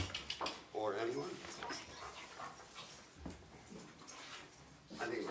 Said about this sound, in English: This dog needs a walk.